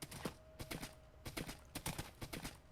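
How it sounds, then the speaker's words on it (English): Horses clip-clop in a video game, with clusters of hoof knocks arriving in uneven bursts, fairly close and crisp against a quiet background. "That's where he keeps his animals. Horses."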